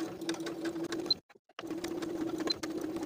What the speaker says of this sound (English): My machine has a twin needle setting, so I'll select that and I'm ready to sew.